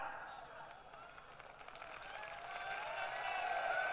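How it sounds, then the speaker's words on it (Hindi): A crowd applauding at a politician's public election rally in Bundi, Rajasthan, soft and distant clapping that swells slightly toward the end beneath a speaking voice. "नहीं, आप खुशी से ताली बजा रहे हो"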